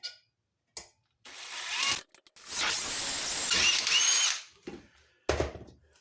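A power drill bores a hole through the pressed steel body of a toy truck, with short bursts of motor whine followed by one longer sustained drilling run and a final brief burst.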